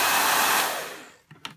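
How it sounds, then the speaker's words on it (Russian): A Sassoon I love my hair dryer blows hard in a loud, steady rush of air that fades out as it is switched off, followed by a couple of faint clicks. "То есть данный фен очень сильно дует."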